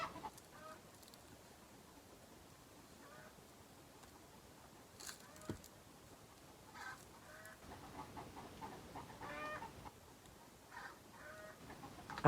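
A backyard chicken clucks faintly and intermittently at a distance, its short calls scattered across a quiet outdoor scene with no voices.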